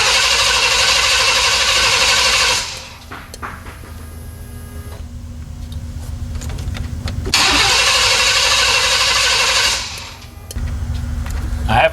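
A Chevy Express van engine with a misfire runs loud and close, rising in two strong bursts that each drop back to a quieter idle in between.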